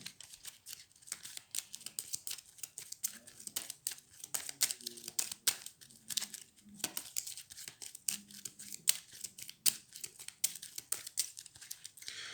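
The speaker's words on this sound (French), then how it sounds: "Je prends toutes mes cartes, je mélange." A deck of Cartographers game cards is shuffled, heard as a long run of quick, crisp riffling and flicking bursts up close, fairly quiet, with some soft, low murmuring beneath.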